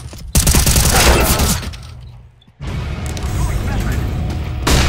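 In a CS:GO match, a thrown decoy grenade fakes gunfire: bursts of loud, close shots with a brief quieter gap in the middle, then more sustained firing, while a player calls out over it.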